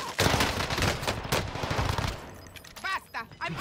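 Heavy gunfire in the Call of Duty Rebirth Island video game, with an STG 44 rifle involved: dense overlapping shots and bursts, loud and close, tapering off while a voice talks near the end.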